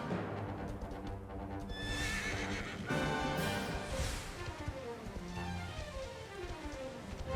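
In Dragon Quest XI, a horse whinnies loudly several times over a steady clip-clop of hooves, with a patter like rain in the background.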